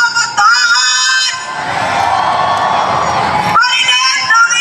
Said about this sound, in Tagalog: Parinig ng inyong mga galit na sigaw!